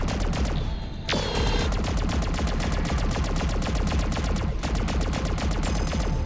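Spaceship breaking apart in the space game Freelancer, with dense, rapid cracking bursts like sustained gunfire and a sharp crash near the start, loud and continuous throughout with no talking.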